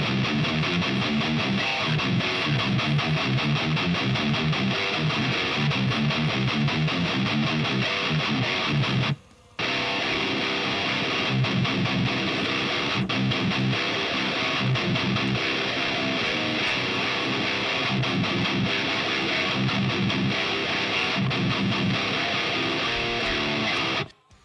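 An electric guitar plays through a Softube amp simulator boosted by a Tube Screamer pedal, giving a dense, heavily distorted tone with fast chugging riffs that stop briefly near the middle, loud and continuous with no talking.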